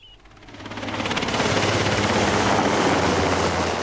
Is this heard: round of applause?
no